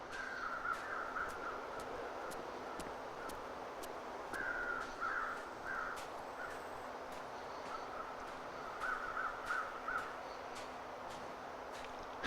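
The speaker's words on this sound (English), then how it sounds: "You can tell by the circling crows" Crows caw in short repeated bursts over a steady hum and wind in the snowy wilderness of The Long Dark, the calls coming in small clusters at a middle distance.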